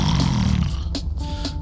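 A man imitates snoring with his voice while playing the detective game Cat Detective Albert Wilde, giving one low, rough, rattling snore up close that fades into softer breathy sounds.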